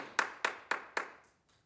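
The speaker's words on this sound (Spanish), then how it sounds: "Amada iglesia de Cristo, denle un aplauso al Señor" A church congregation claps for the Lord in four sharp, evenly spaced bursts, each fading quickly, with a couple of faint trailing claps at the end and no talk.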